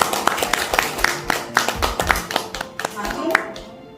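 An audience claps at an appointment ceremony for a cultural foundation's press reporters, a short burst of uneven, moderately loud handclaps that fades out after a few seconds.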